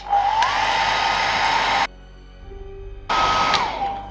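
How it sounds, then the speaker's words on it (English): A hair dryer blows on a handmade pumpkin craft to dry it. It runs loud and close with a steady whine, cuts off briefly, then roars back for a second burst. No one speaks. "you could get a hair dryer, and that would probably speed up the drying process."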